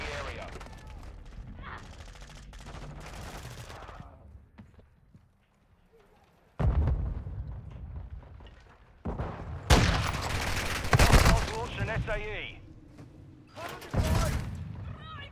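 Gunfire from the Call of Duty: Modern Warfare II multiplayer video game, loud bursts of shots arriving in clusters with a quiet gap early on, alongside clattering effects and someone speaking in places.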